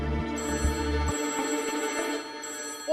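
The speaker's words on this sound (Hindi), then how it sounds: "ओ भाई, इस समय फोन कहाँ से आ गया?" A telephone rings with a bright electronic bell tone, loud and continuous, the ring pattern shifting midway with a few clicks, no voices over it.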